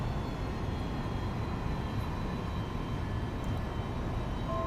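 A steady, unchanging aircraft engine drone from the X-Plane 11 flight simulator runs at an even level for the whole stretch, with no other sounds.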